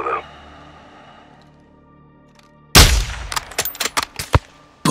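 In the Call of Duty: Modern Warfare II campaign, after a quiet stretch a sharp, loud gunshot cracks out, followed by several further crisp bangs and impacts in quick succession.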